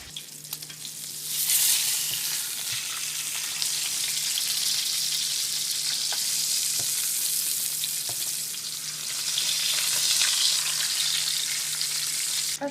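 Salmon frying in a pan, a steady loud sizzle with crackling hiss that swells and eases, heard alone without talk.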